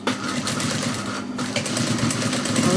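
Sewing machine running continuously as it double-stitches a seam a few inches below a zip, a steady close mechanical whir and rapid needle rattle throughout with one brief pause.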